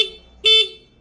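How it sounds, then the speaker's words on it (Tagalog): A stock horn on a Suzuki Raider R150 motorcycle gives one short, loud beep up close, against a quiet background. "So ganito yung kanyang stock horn."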